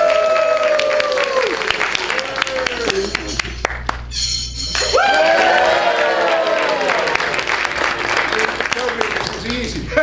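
A magic show audience at Magicopolis breaks into applause, a thick wash of clapping that runs throughout with voices and tonal sounds mixed in over it.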